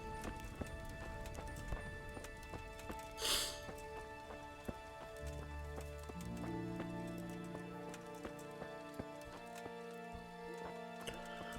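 Horse hooves clip-clopping at a steady walking rhythm in Kingdom Come: Deliverance, close and fairly quiet, with a short burst of noise partway through and a low background drone.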